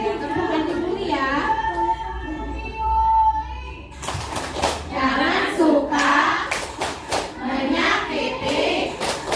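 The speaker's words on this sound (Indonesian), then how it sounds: "Oke, tepuk anti buli ya." Indonesian schoolchildren chant in unison while clapping a rhythmic anti-bullying cheer, with sharp hand claps in quick patterns under loud, close voices.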